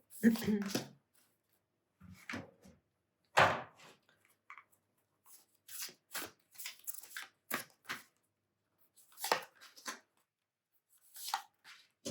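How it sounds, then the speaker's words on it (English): Tarot cards are drawn from a deck for a pick-a-card reading, heard as a series of close, soft papery flicks and slides in short separate bursts with quiet gaps between them. "Let's pull all our cards nicely."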